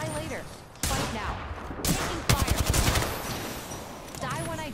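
Automatic gunfire rattles through a video game firefight, a loud sustained burst of rapid shots with scattered single cracks, under in-game voice callouts.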